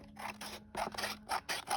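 Stiff new scissors snip the corners of a Dollar Tree paper gift bag, giving a quick series of close, crisp cutting crunches with short pauses between strokes.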